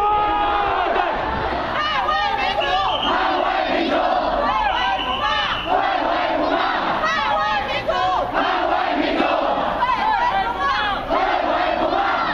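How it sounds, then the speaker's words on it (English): Protesters occupying Taiwan's Executive Yuan shout at police lines: a loud, continuous roar of massed voices with repeated rhythmic chanted yells rising and falling, close and dense throughout. "Many people are yelling back to the police"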